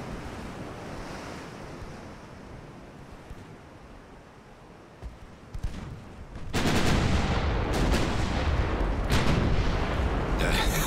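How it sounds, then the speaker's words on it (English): A salvo of naval guns fired from warships in the Ultimate Admiral: Dreadnoughts video game: a stretch of low wind-like rumble, then a few thuds and a loud, sustained burst of booming blasts rolling on to the end, with no talking. "The hell type of salvo was that?"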